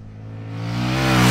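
An Indian FTR R Carbon motorcycle accelerates hard on a race track, its engine note climbing steeply and growing louder over a short, close burst.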